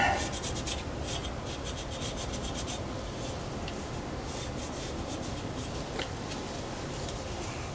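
Steady rasping scrape of old gasket residue being cleaned off a Prevost bus wheel hub, continuous close-up rubbing strokes with a few sharper ticks, no talking.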